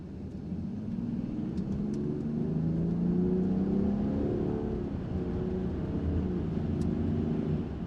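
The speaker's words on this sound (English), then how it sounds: "Let's get up to 60 miles per hour, slam on the brakes and see what happens." Land Rover Defender 90 Trophy accelerating to 60 mph, heard from inside as a steady engine drone that climbs in pitch through the gears over road and wind rumble, with no talking.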